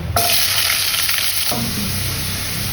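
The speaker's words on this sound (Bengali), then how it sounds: "জিরে আর গরম মশলাটা ফ্রাই হয়ে গেছে, এবার এর মধ্যে দিয়ে দেবো আলু" Potatoes dropped into hot oil already fried with cumin and garam masala, giving a loud, steady sizzle and crackle that swells as they land and keeps hissing under a stirring scrape.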